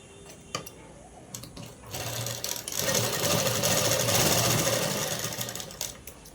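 A sewing machine runs stitches along elastic on a garment, starting with a few short bursts and then running in one long, fast, steady whir before slowing, close by with no talk.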